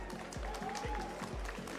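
Crowd cheering and applauding on stage at a Pokémon world championship after a winning set, a steady wash of clapping and cheers with a voice talking over it.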